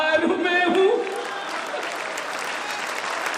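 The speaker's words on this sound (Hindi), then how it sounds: "तालियां जोरदार" Loud, sustained audience applause fills a Hindi kavi sammelan poetry recital, dense and steady throughout, with a brief stronger swell near the start before settling into even clapping.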